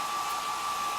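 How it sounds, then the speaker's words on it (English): A hair dryer running on medium heat, a steady close whoosh with an even airy hiss and a faint motor whine, unbroken throughout with no talking. "hair dryer, just medium heat"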